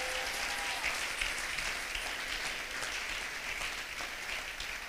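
An audience at a church youth seminar claps steadily in a dense, sustained round of applause, fairly distant and even throughout.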